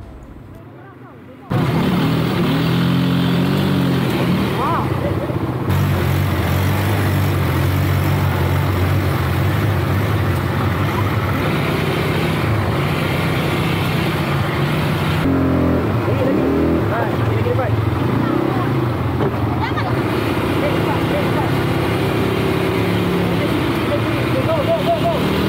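ATV engine running on a challenging off-road trail, a loud continuous motor drone with shifting revs, recorded up close after a brief quieter opening, with voices shouting over it at times.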